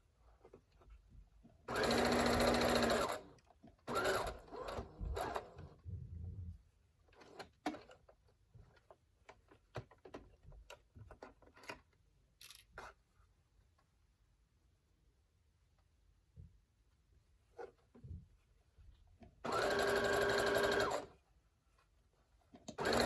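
A sewing machine stitches a cloth face mask in two loud, steady bursts, one early and one near the end, with quieter handling clicks and rustles of fabric in between.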